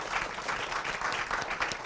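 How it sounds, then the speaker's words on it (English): An audience at a school spelling bee applauds the round's participants, a dense, even patter of many hands clapping steadily throughout, fairly close. "Let's applaud our round 5 participants"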